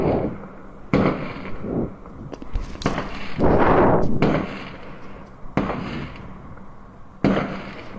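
Fireworks bursting on Bonfire Night: a series of loud booms and crackling explosions, some sharp and close, one longer roaring crackle in the middle, spaced irregularly with no talking.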